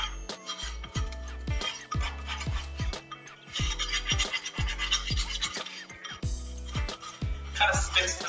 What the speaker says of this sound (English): Kind of sticks to the bowl sometimes when you microwave it, so you just have to scrape it out.